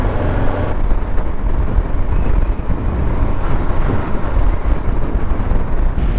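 An International truck rolls past outside, a broad rumbling engine and wind-buffeted roar held at a steady loudness for several seconds.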